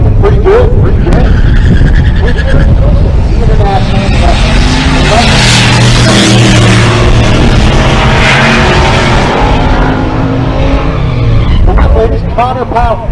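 A Mustang drag race car makes a pass at a race week event in Pueblo, Colorado. The engine roars loud and continuous and rises and falls over several seconds, with an announcer talking over it.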